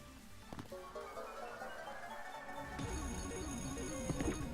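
A red phone ringing in the video game Cloverpit, a rising melodic ringtone over busy game sounds, growing brighter and more insistent partway through.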